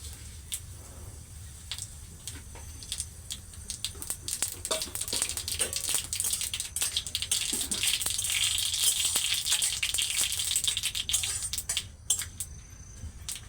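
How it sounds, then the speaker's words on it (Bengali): Bay leaf, panch phoron and a little mustard seed crackle and sizzle in hot oil for a mango pickle. The hiss swells midway with scattered tiny pops, heard close but fairly quiet. "তেলটা একটু গরম করে নিয়ে এবার আমি এর মধ্যে ফোড়নে দিয়ে দিচ্ছি একটা তেজপাতা আর দিয়ে দিচ্ছি আমি এখানে পাঁচ ফোড়ন আর সামান্য একটু সর্ষে"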